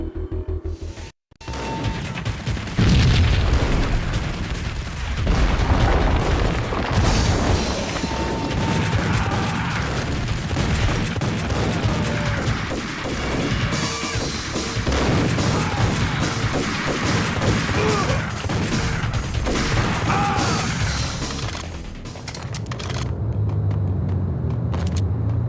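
Gunfire fills a shootout in the video game Max Payne, with dense, continuous bursts of shots, crashes and rumbling mechanical noise, loud throughout and briefly cutting out near the start.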